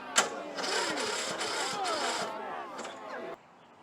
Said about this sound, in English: Let me see if this gives me enough amperage to try to even crank it over.